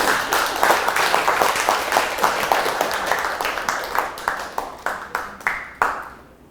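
Audience applause in a lecture hall, loud dense clapping that thins out toward the end into a few separate, distinct claps.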